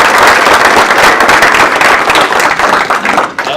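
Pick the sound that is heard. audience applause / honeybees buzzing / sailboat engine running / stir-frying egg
audience applause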